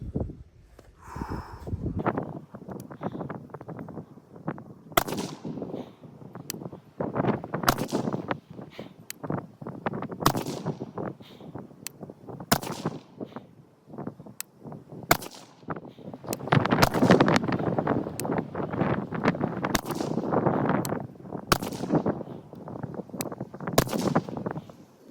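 A ten-shot group of rifle shots fired through a Vortex Razor Gen 2 1-6 scope at a range, sounding as sharp, loud cracks spaced a second or two apart, each trailing off, with no talking.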